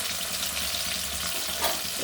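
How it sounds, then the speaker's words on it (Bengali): Chicken fries with spices in a pan, giving a dense, constant sizzle that stays close and even from start to finish. "এই যে চিকেনটাকে ভালো করে আমি ভেজে নেবো একদম মশলা দিয়ে"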